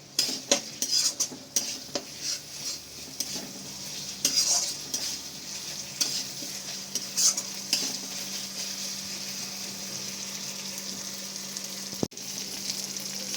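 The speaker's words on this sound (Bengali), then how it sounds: "ভালো করে মশলার সাথে কষিয়ে নেব মশলার কাঁচা গন্ধটা না যাওয়া অবধি এটাকে ভালো করে কষিয়ে নেবো" Goat fat and meat trimmings fried and stirred with spices in a pan, a steady sizzle under repeated scraping and clinking of a metal spoon against the pan, close and continuous with no talking.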